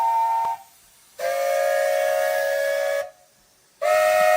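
Two long blasts of a steam whistle in a shed, each a steady, loud tone with hissy steam around it, split by a short quiet gap, and a third blast starts at the end; no one talks.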